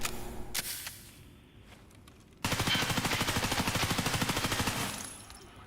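A gun in a video game fires a long sustained automatic burst, loud and rhythmically rapid, after a quieter stretch with a few isolated shots.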